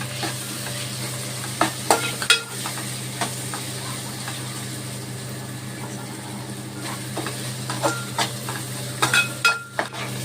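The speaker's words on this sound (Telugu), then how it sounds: "కారం వేసుకున్నాక కలుపుకోవాలి బాగా." Chili powder and turmeric mixture stirred in a frying pan: a continuous low sizzle with intermittent scraping and clinking of a spoon against the pan, in scattered bursts.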